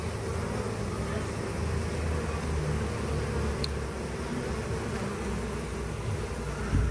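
Bees buzzing close by outdoors, a steady faint drone over a low background hum, with brief rising whines as individual insects pass near.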